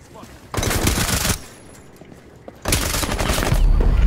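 Gunfire in Rainbow Six Siege comes in two loud, sustained bursts of rapid automatic shots, separated by a quieter gap of about a second.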